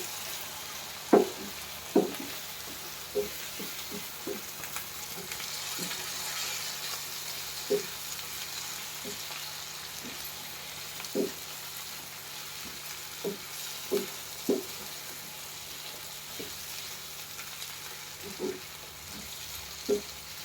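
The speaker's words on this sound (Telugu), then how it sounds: "మసాలా పొడి, వేసి ఇలా కలుపుకోవాలి." Chicken frying with masala powder being stirred in, a steady quiet sizzle broken by scattered soft clicks of the spoon against the pan.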